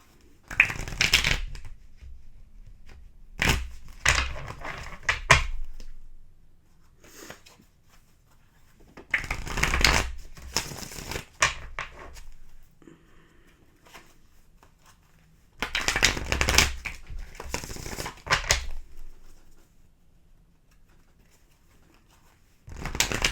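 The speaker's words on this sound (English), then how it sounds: "One more shuffle for you" Tarot cards are shuffled in several separate bursts of riffling and flicking, close up, with quiet pauses between each round.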